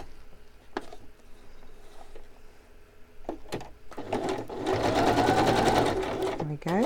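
A sewing machine stitching across a craft piece, its rapid mechanical whir building loud and steady over the last few seconds after some scattered clicks and handling sounds.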